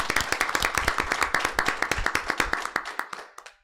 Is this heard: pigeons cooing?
no